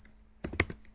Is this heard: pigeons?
no